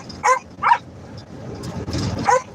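A dog near the microphone gives several short, high whimpering yips in uneven bursts, upset about its leash, with faint background noise between the cries.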